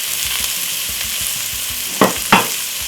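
Seasoning frying in a little olive oil in a pot on a stove for a Jamaican curry beef, giving a steady close sizzle and crackle with two sharper clatters of stirring near the end.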